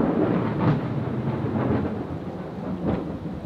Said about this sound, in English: that storm's coming in quicker than we thought